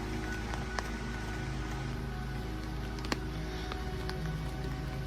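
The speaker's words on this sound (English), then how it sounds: "That's the rain on now." Rain falls steadily on a camping hammock, making a constant soft hiss with scattered light ticks of drops hitting the fabric, close and even with no voices.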